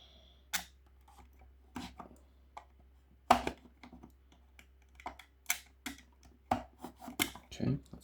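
Scissors snip stickers off a 1:43 IXO 1991 Saab 900 Cabriolet model car in a quiet room: a dozen or so sharp, close, separate cuts at irregular intervals, with soft handling noises between them.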